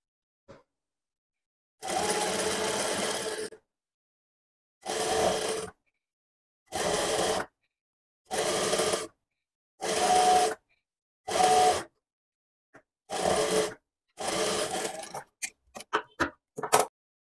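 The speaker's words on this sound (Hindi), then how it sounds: "ये इस तरीके से यहाँ पे सिलाई लगाएंगे" A sewing machine stitches lace onto kurti fabric for a V-neck design, running in about eight whirring bursts of one to two seconds each, separated by short pauses and ending in a few quick taps.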